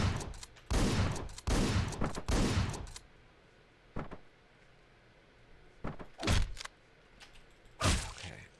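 Bursts of AK rifle fire in the top-down game Hotline Miami 2: three loud sustained volleys close together, then a few shorter separated shots and thuds, no talking.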